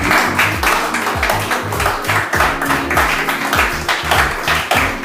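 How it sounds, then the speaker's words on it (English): Audience clapping at a handing-over ceremony, a dense, steady wash of hands filling the whole stretch, loud and close, with a few faint voices and low rhythmic background sounds mixed underneath. "I want you to clap."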